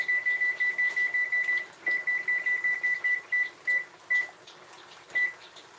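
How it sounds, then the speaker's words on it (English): A kitchen timer beeps in a rapid run of short, even, high-pitched tones while being set for 25 minutes for simmering rice, then the beeps space out into single chirps, clear and close with no talk. "And I'm going to put on the timer for 25 minutes"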